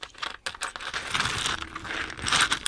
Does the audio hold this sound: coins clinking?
yes